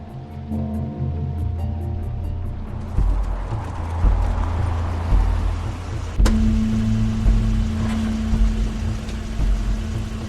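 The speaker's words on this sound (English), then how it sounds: "It's Crane's car." Crane's car pulling up in the video game The Wolf Among Us, a low engine rumble rising in and settling to a steady drone over a moody ambient score, with a sharp click partway through.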